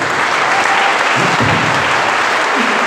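A church congregation claps loudly and steadily throughout, a dense, continuous wash of applause filling the space during a worship service.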